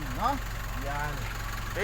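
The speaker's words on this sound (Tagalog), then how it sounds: "pakinggan nyo yung tunog ng makina mga boss" The 2.7-liter diesel engine of a 2015 Nissan Urvan idles with a steady low hum under a voice.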